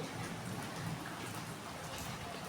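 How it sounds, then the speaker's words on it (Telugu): Steady rain pours down during a heavy downpour that is flooding into a home, making a constant, even hiss with no talking. "వర్షం పడితే చూడండి"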